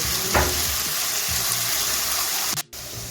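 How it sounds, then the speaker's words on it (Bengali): Chopped onions frying on medium gas heat, a steady dense sizzle running throughout with a few soft stirring scrapes, close and fairly loud before a brief cut near the end. "পেঁয়াজটাকে এখন আমি ব্রাউন করে ভেজে নেব গ্যাসটা আমি মিডিয়ামে রেখেছি"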